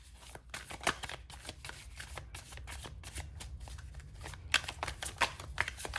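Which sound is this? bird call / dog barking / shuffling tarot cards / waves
shuffling tarot cards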